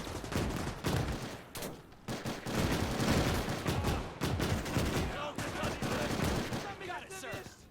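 Dense, continuous gunfire from rifles and machine guns in a WW2 video game mod's trench battle, with overlapping volleys and blasts throughout and occasional voices.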